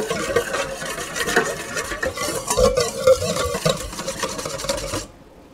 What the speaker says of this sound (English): All right, so I'm going to whisk that up.